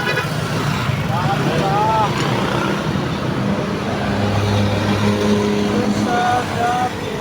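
Road traffic rumbles and hisses around a cyclist on a busy street, a steady close wash of engine noise and passing vehicles with faint voices in the mix.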